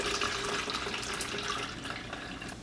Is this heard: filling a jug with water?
yes